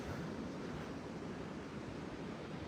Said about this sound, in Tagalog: Ito po yung dagat, oh.